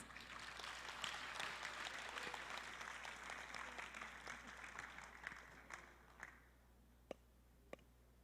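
Audience applause fills a hotel ballroom at a policy conference, a broad, sustained round of clapping from many hands that thins out over the last couple of seconds to a few scattered claps over a low hum.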